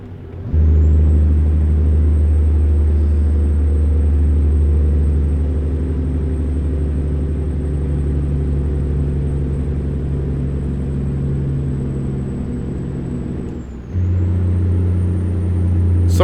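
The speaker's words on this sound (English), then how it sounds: "let's go ahead and downshift here" A heavy truck engine in the American Truck Simulator video game drones loudly and evenly, with a whine that holds steady, then a brief dip and a step to a new pitch as it downshifts near the end.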